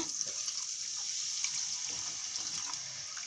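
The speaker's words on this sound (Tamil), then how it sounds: "இதில் நம்ம 1 டம்ளர் அளவுக்கு கொஞ்சம் தண்ணி ஆட் பண்ணிக்கோங்க" Water, about one tumbler's worth, is poured into a spiced cooking mix for street-style mushroom dish, a thin continuous trickling splash that stays soft and steady.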